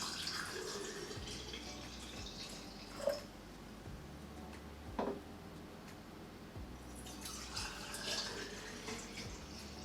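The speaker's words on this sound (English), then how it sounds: "There's a bunch of water coming out of my handle." Tap water runs and drips from a handle into a pot in a sink, with a steady low flow broken by a few sharp splashes and knocks, close and fairly quiet.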